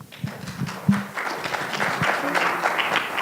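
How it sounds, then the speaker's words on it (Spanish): A conference audience at a humanities and social sciences forum in Lagos applauds to welcome a speaker, a moderate, continuous patter of many hands, with some voices mixed in. "Recibámosla con un fuerte aplauso"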